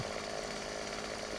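A chainsaw idles in the video game 7 Days to Die, a faint, steady buzzing drone that ends in a short, sharper burst.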